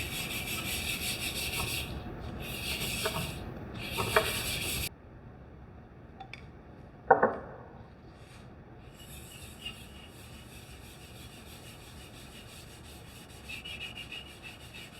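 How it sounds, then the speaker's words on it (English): An abrasive pad rubs finish onto a wood door frame in quick back-and-forth strokes, loud and close for about five seconds, then the sound drops away to a quiet room with a single sharp knock. "if you use an abrasive pad like this, it kind of sands as you put it on"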